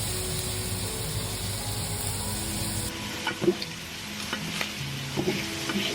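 Shrimp sizzle in a skillet with a loud, dense frying hiss that drops off abruptly midway, followed by quieter crackles and scattered clicks from stirring.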